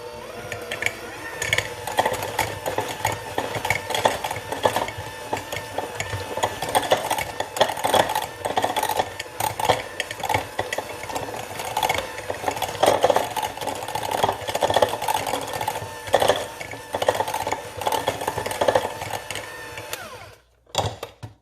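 An electric mixer beats softened cream cheese and butter for carrot cake frosting, a steady buzzing motor whir that runs for about twenty seconds and then cuts off abruptly.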